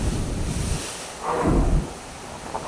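Strong wind from Typhoon Nando roars steadily in Manila, with broadband rushing gusts and a louder surge midway, like waves or heavy rain, and no speech.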